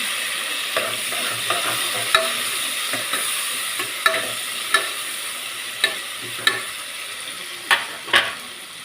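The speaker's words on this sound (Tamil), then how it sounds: "வெங்காயம் தக்காளி வதங்கிடுச்சு." Onion and tomato sauté in a pan for tomato rice, a soft steady sizzle with a spoon scraping and clinking against the metal at irregular intervals, close and without talk.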